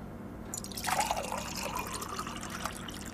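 Water poured into a cooking vessel in a home kitchen, a steady trickling stream starting about a second in and running close and moderately loud to the end, with no talk over it.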